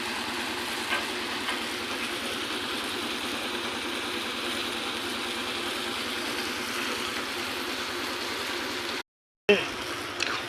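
Steady, dense rush of heavy rain, constant and loud throughout, briefly cutting out near the end before resuming.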